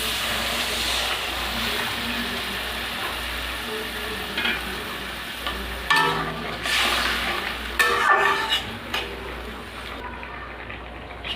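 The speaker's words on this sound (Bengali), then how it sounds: "এবার আমি অল্প করে জল দিয়ে দেবো।" Water poured into a pan of lightly fried bitter gourd, giving a steady broad hiss of steam and sizzle that swells into louder bursts of crackling and splashing toward the end.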